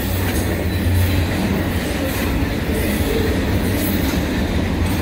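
Westbound CN intermodal freight train passing in Montmagney, Quebec, a loud continuous rumble of heavy wagons rolling by close, with steady wheel noise and faint rhythmic clatter from the rails.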